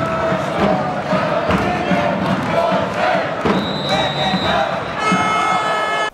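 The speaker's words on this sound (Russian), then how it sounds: "В эти минуты вовсю зажигал наш фан-сектор." Handball fans from Brest fill an away arena in Flensburg during a Champions League last-16 match with loud, continuous cheering and chanting, and horn-like tones rise over the crowd noise near the end.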